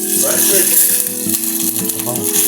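Broth poured into a hot pan of frying Master sardines sets off a loud, steady sizzle and bubbling, close and continuous for the whole moment.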